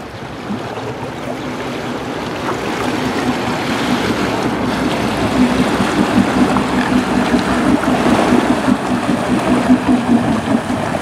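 A boat approaches across the water, its low steady motor hum gradually growing louder beneath continuous wind and lapping waves, with no voices.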